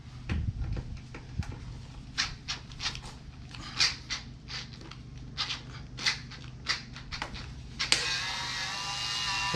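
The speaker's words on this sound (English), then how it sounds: "so it required a power screwdriver" A power screwdriver works tight screws loose on a Xpulse 4V 200 motorcycle: a string of sharp, irregular clicking bursts is heard up close, then a steady whining motor hum runs to the end.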